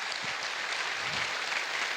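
Steady, even applause from an audience at a business success day event, a continuous wash of many hands clapping with no speech on top.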